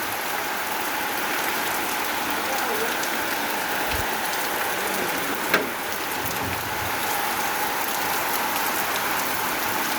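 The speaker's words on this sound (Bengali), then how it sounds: "ধারে বৃষ্টি নেমেছে, বর্ষার বৃষ্টি। সেই সকাল থেকে থেমে থেমে বৃষ্টি হচ্ছে।" Steady monsoon rain in Bangladesh falls hard and continuously, a dense unbroken hiss of drops on surfaces near a verandah with a faint brief click partway through.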